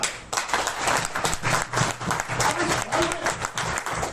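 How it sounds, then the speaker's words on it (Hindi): Audience applause at a Hindi-language business seminar, dense sustained clapping from a crowd with some voices mixed in underneath. "तालियां।"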